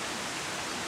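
A stream runs through a lush, fern-covered valley on the Vermont nature trail in St Vincent and the Grenadines, giving a brief, steady wash of rushing water, soft and continuous.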